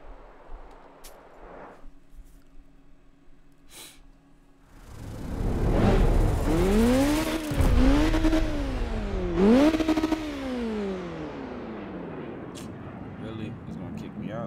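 A Mazda RX-7 FD with a 2JZ engine swap in CarX Street on PC, quiet idle then a loud revving engine climbing and dropping in pitch through repeated surges, with game noise and talk underneath.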